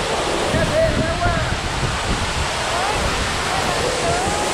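Rushing water at the Tamasopo waterfalls, a loud continuous broadband roar of falling and flowing water close by, with faint voices underneath.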